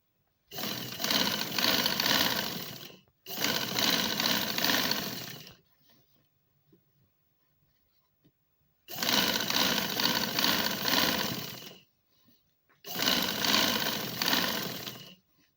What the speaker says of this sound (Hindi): मैं सिलाई लगाती हूँ इसे।